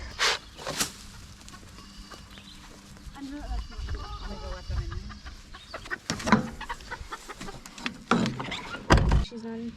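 A hen laying an egg clucks and squawks repeatedly in loud bursts, with people talking nearby and some knocking and rustling in between.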